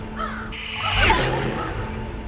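A crow caws a few times, close and fairly loud, in a short burst that stands out against a steady background.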